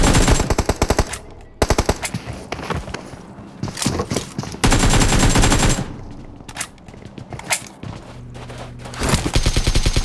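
Automatic gunfire in the battle game BGMI, loud rapid bursts of shots in quick strings with short pauses between them, close and dense throughout.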